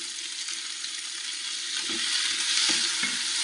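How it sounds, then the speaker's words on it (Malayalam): Chopped tomatoes sizzle and hiss in a hot pan for a simple tomato curry, with a steady broadband fry and a few soft scraping stirs toward the end, fairly close and without voices. "എന്നിട്ട് നല്ല രീതിയിൽ തന്നെ ഒന്ന് ഇളക്കി കൊടുക്കണം"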